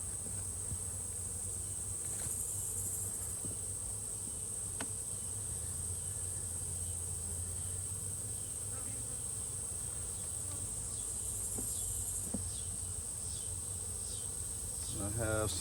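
Honeybees buzzing around comb in a hive holding an August swarm: a steady, dense drone of many bees close by, with occasional faint knocks and scrapes underneath.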